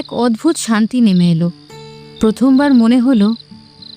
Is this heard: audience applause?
no